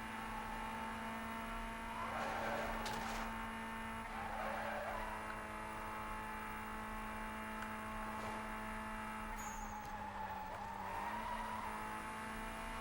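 A Volkswagen Golf in Need for Speed Most Wanted brakes hard and skids, tires squealing in a few scraping bursts over a steady engine drone and in-game music.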